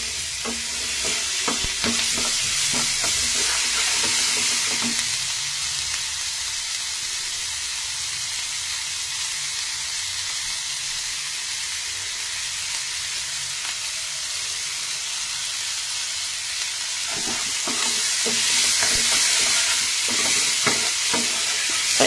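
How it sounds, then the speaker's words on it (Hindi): Chopped onions sizzle and fry in a pan, stirred with scraping strokes at the start and near the end, a steady close hiss running underneath throughout. "प्याज को तब तक भूनना है जब तक कि इसका सारा कच्चापन निकल जाए।"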